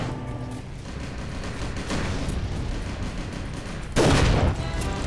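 Shotgun blasts in the GoldenEye Source shooter come as heavy bursts over dense game noise, with the loudest, closest blast landing near the end of the clip.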